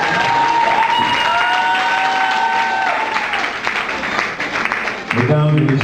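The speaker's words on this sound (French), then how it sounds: "Est-ce qu'on peut acclamer très fort?" A live show audience breaks into loud, sustained applause and cheering, with dense clapping and whoops throughout and a voice briefly rising above the crowd near the end.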